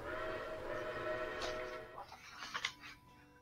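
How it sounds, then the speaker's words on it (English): A steam train whistle, the Polar Express, sounds a sustained harmonic blast for about two seconds, then fades into softer chuffing and clatter as the train moves away. "The Polar Express let out a loud blast from its whistle and sped"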